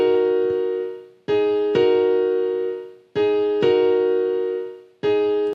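A simple piano melody sounds in sustained chords struck in a slow repeating pattern, each ringing and fading before the next, clear and alone.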